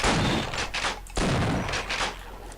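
A video game weapon fires continuously in rapid, dense bursts, loud and close, with a brief break before the firing resumes.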